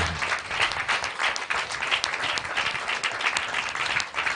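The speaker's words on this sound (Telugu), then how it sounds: "అర్థమైన వాళ్ళు గట్టిగా చప్పట్లు కొడితేనే మరి." A congregation at a Telugu healing ministry gathering claps loudly and continuously, a dense, even wash of applause with no pauses.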